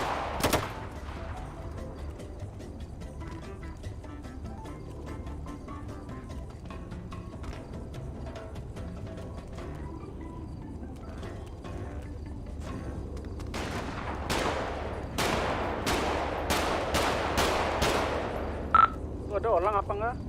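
Gunfire rings out in GTA V, with sparse distant shots early on and a cluster of sharp, loud cracks toward the end over a low rumbling background.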